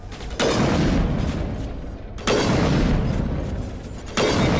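Sniper rifle in a space RPG video game firing three heavy booming shots about two seconds apart, each with a long rumbling decay, loud and close.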